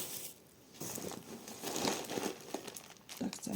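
Plastic crinkles and rustles up close as a bag of hydrangea fertilizer is handled, crackling in irregular bursts with brief quiet pauses.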